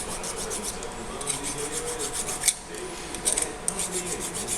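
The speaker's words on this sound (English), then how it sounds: "I'm just taking the burrs off so that it sits in the vise good." A hand file rasps steadily back and forth across a metal part to remove burrs from a machined piece for a heavy-duty steady rest, repeated close strokes in a quiet shop with no talk.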